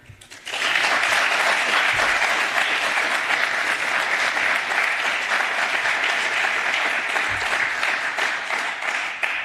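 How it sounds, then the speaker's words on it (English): A hackathon audience breaks into sustained applause that starts abruptly and stays loud and dense for nearly ten seconds, a broad wash of many hands clapping at once. "please give everyone a good round of applause for their work here"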